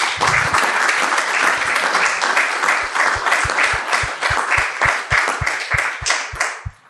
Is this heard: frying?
no